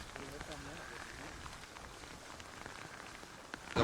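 Driving rain lashes down on a flooded alfalfa field with a rising tide, a faint steady patter of drops on surfaces, partly under speech, ending in a sudden louder burst of noise.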